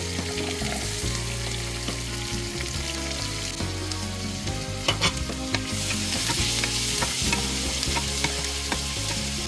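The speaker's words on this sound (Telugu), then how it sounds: "ఆనియన్స్ మనకి మంచిగా బ్రౌన్ కలర్లో బాగా ఫ్రై అవ్వాలండి." Chopped onions fry hard in hot oil with green chillies, a loud dense crackling sizzle that runs without a break, sharpened by occasional spatters and stirring scrapes.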